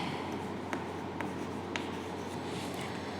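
Marker or chalk writing an element name on a classroom board, heard as a few soft scratchy strokes over a steady low room hum, fairly faint, with no talking.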